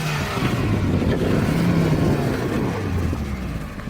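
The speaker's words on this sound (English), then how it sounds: "You can see that this car is still running rough and tough" A car's engine runs during a destruction test, a rough, steady, close rumble with no voices over it.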